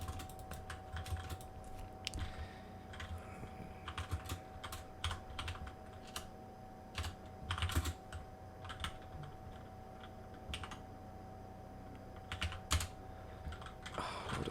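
Someone types on a computer keyboard, irregular bursts of quiet clicking keystrokes with brief pauses, close and soft over a faint steady hum.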